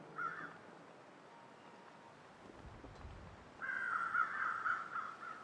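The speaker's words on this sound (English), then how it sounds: "Oh, crows on the move." Crows caw faintly at the start in the video game The Long Dark, then a louder burst of harsh cawing follows after a quiet stretch with a low rumble.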